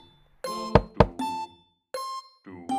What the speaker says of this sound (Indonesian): saat mendengar suara ketukan pintu